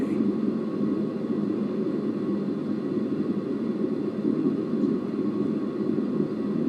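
An aircraft rolls down the runway on its takeoff roll, a steady low rumbling roar of engine and wheels filling the cabin without a break.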